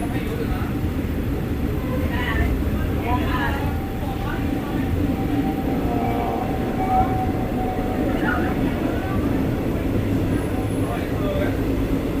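A 2+2 passenger train carriage in Thailand rolls along with ceiling fans spinning, giving a steady low rumble and hum throughout, while people talk faintly in the background.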